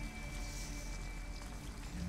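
Steady rain falls on surfaces in Detroit: Become Human, an even hiss of patter with no break across the short stretch.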